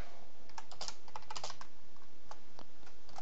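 Rapid clicking of a computer keyboard as someone types, with irregular bursts of keystrokes close to the listener and no voices.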